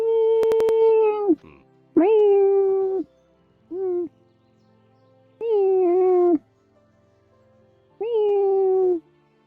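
A cat meows five times at a close distance, each meow loud and drawn out with gaps of near silence between them.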